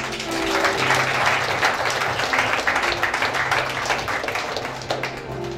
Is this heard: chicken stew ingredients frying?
no